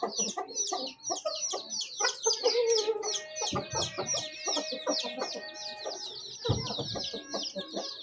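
A rooster in a village yard clucks and calls repeatedly, close and loud, with dense bursts of fowl vocalizations and some crowing-like notes running throughout.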